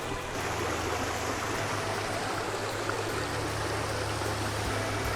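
Steady rushing of river water flowing across a farm, a constant close wash of stream noise that holds evenly throughout with no voices.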